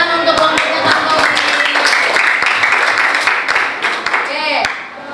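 A classroom of students claps for a presenting group, a lively mix of sharp individual hand claps over a busy backdrop of voices and chatter, tapering off near the end.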